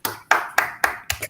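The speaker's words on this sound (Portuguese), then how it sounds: "para que a gente possa agradecer o Fernando com uma salva de palmas" A few people on an online call clap for a lecturer after a university mini-course session. About five sharp, close claps come in a quick, slightly uneven rhythm with no talking.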